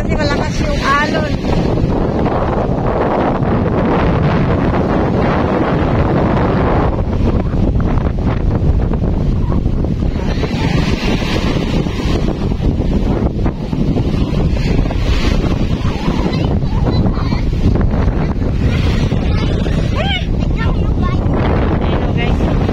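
Strong wind roars across the microphone nonstop at Ilig-Iligan Beach, Boracay, mixed with crashing surf, while people talk faintly beneath the noise.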